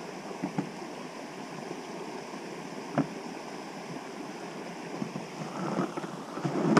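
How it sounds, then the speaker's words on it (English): A small brook flows outdoors, giving a steady soft rushing and gurgling wash of water with a few brief splashy accents. "You can notice the brook"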